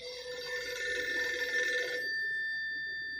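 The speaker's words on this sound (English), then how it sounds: "The ringing sound." An electronic phone ringtone trills steadily, then cuts to a single sustained tone that lingers to the end; no one speaks.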